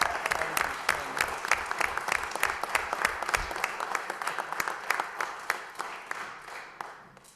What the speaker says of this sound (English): I get to give them a round of applause.